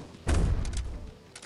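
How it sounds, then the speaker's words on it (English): Assault rifle fire in the Gods of Boom video game, a dull booming burst of shots lasting under a second, followed by a softer fading tail with a faint later hit. "I love introducing you to my assault rifle."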